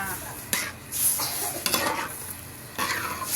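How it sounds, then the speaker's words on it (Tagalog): Laing simmers in a pot while being stirred, several distinct bursts of scraping and clattering utensil strokes over a soft bubbling hiss, close by, with no talking. "Kumulo na siya ng kumulo. Haluin lang siya muna."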